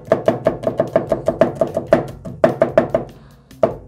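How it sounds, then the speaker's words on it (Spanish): A knife chops two large garlic cloves on a cutting board in quick, close, rhythmic knocks. The run breaks off briefly and then resumes with a few more strikes. No speech. "Picamos los ajos. Dos dientes de ajos."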